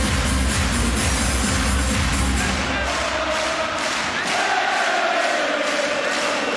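Handball crowd at the Norway versus Denmark World Championship final 2019 roars in a dense, sustained wall of cheering and chanting, loud throughout, with rhythmic thumps and a bright whistle-like tone emerging in the second half.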